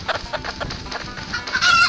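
A chicken clucks in a steady run of short, choppy calls close by, rising into a louder, higher squawk near the end, with no voices.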